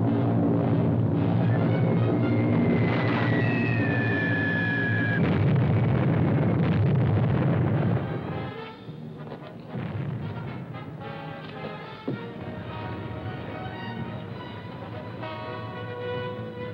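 Bombs explode during an air raid in an old Hollywood film, with a dense roar of blasts and a falling whistle, then scattered booms and crashes that thin out toward the end.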